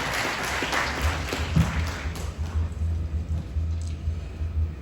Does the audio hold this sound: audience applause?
yes